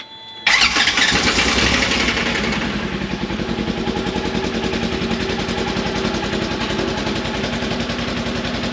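An N600 4x4 off-road vehicle fitted with a HEMI engine starts: a quick crank catches and the engine settles into a loud, steady, rapidly pulsing idle close to the microphone, with no talking.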